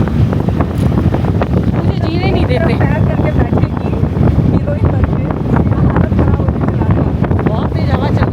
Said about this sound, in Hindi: बहुत तेज हवा चल रही है, बहुत तेज।